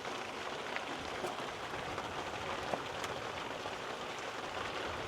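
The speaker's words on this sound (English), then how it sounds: "As you can see, it's definitely a light rain, probably to a mid rain, I would say." Light rain shower falling on a campsite, a steady soft patter of drops on surfaces with a few slightly louder taps, even and unbroken throughout.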